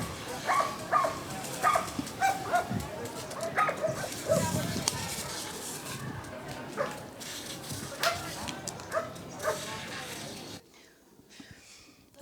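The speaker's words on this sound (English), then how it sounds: "we heard this crazy excited barking from around the corner" Several street dogs bark and yip excitedly in quick, irregular bursts, with whimpers and hushed voices mixed in, close by, before suddenly falling quiet.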